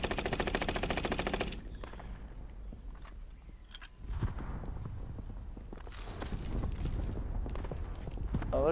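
Automatic gunfire from Call of Duty: Modern Warfare rattles in a fast, loud burst, then gives way to scattered shots, footsteps and game noise before more firing near the end.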